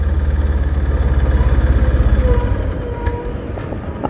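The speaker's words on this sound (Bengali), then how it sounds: "তো বন্ধুরা বাইকে ঝটকা দেওয়া শুরু হয়ে গেছে," A Yamaha FZX motorcycle engine that is running out of fuel sputters close by with a rapid, uneven pulsing throb, then weakens and fades toward the end.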